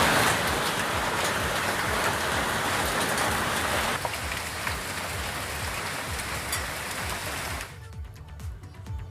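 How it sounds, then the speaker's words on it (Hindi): Hail falling with rain in Barkot and Pithoragarh, Uttarakhand, a dense, loud, continuous patter of drops striking surfaces that thins slightly midway and then cuts off abruptly near the end, with no voices. "दो तस्वीरें आपके सामने ओले गिरते हुए, बड़कोट और पिथौरागढ़।"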